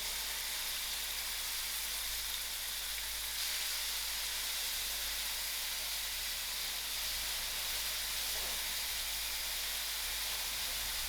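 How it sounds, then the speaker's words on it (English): Onions fry in half a cup of hot oil in a pot for a spicy fish head curry, a continuous broad sizzling hiss that holds steady and fairly loud throughout. "I will allow this onion to fry till it's golden brown."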